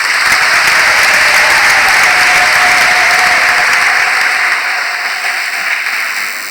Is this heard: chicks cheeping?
no